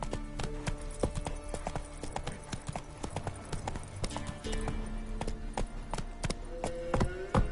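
Hooves of Roach the horse galloping in The Witcher 3, a quick, uneven clip-clop rhythm up close, with faint voices briefly over it.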